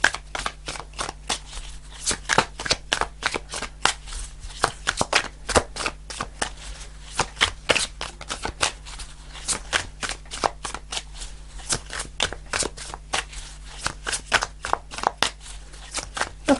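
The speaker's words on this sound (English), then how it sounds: "Okay, I'll shuffle a few more times" Tarot cards are shuffled over and over in a dense run of quick riffling bursts, close up and steady throughout, with no voices.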